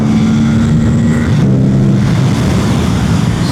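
An Aprilia RS 457 motorcycle in sports mode on a test ride, its engine loud and close with a steady droning note that shifts pitch partway through as the revs change, with no voices.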